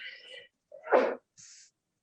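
A single sharp sneeze in a board meeting room, brief and close, set between quieter breathy sounds and short vocal noises.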